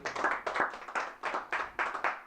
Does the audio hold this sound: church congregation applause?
yes